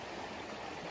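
A river rushes steadily past a campsite on the Appalachian Trail, a constant close wash of flowing water with no voices.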